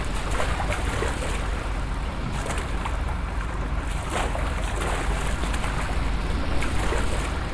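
A simulated A2A J-3 Cub floatplane sits on the water in a flight sim game as the paddle works, giving steady rushing water and wind-like noise with faint rhythmic splashes and no talking.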